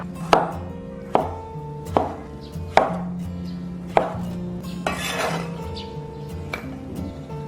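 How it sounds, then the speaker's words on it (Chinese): A knife chops a peeled luffa gourd into small pieces on a cutting board, giving about seven crisp, close knocks spaced unevenly with no talk. "改刀切小块。"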